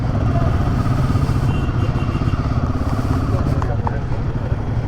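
A 2024 Royal Enfield Himalayan motorcycle engine runs loud and close with a low, pulsing throb as the bike pulls away, steady throughout, with a rider talking over it.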